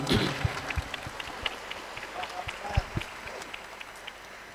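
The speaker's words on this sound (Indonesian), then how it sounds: "Beri tepuk tangan dulu semuanya." Scattered applause breaks out for a contestant at a Quran memorization competition final in Jakarta, uneven and fairly light with distinct individual claps and a few louder hand strikes standing out.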